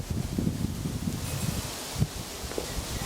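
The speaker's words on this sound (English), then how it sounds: "I don't know why I pick windy days to take videos" Wind gusts through a sunny garden, rustling leaves and buffeting the microphone in uneven, rumbling bursts with no voices.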